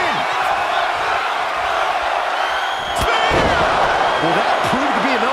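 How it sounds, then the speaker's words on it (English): Wrestling headbutt in an AEW Collision match: one sharp impact thud partway through, with a loud arena crowd roaring steadily throughout and a commentator talking over it. "Oh, this, what a headbutt."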